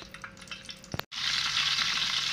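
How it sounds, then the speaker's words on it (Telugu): Stuffed whole brinjal drops into a generous amount of hot oil. A brief splash and pause give way to a loud, steady sizzle of frying that continues without talk. "ఈ స్టఫింగ్ చేసిన ఈ గుత్తి వంకాయని ఈ నూనెలో వేసుకుని ఫ్రై చేసుకోవాలి."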